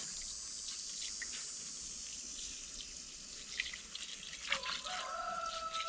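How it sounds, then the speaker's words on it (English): Running water pours steadily as bleached black shirts are rinsed under a tap, a continuous hiss and splash with a brief burst of sloshing near the end, and no voices. "So basically, you just rinse them out, is this step."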